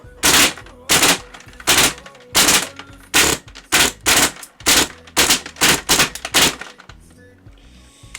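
KWA airsoft gun with an HPA-converted gearbox firing on semi-auto, a dozen sharp, loud cracks in a quick irregular rhythm, each with a short mechanical rattle, close up and without speech.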